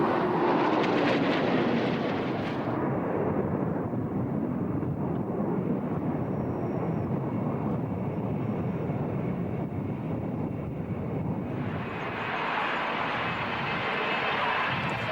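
A B-2 stealth bomber flies over an air show at RIAT 2003, its jet engines producing a loud, sustained broadband roar that shifts in tone as it passes.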